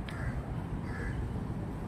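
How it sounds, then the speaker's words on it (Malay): A crow caws twice in quick succession, moderately close, over steady low traffic rumble along a roadside near a mall in Damansara. "Oh, ada burung gagak."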